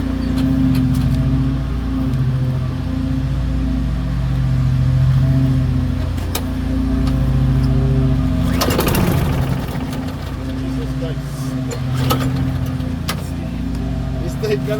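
A Poulan Pro lawn mower engine chugs loudly and steadily up close, with a sudden rough burst partway through as it catches, while people speak over the noise.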